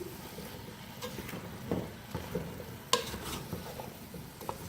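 Aloo gobhi of potato and cauliflower being stirred and mixed in a pan, soft low sizzling under scattered scraping strokes and a few sharp utensil clinks, fairly quiet and close.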